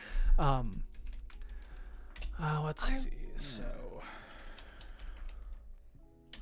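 Close, quiet clicking of typing on a computer keyboard runs throughout, with a person speaking briefly over the keystrokes.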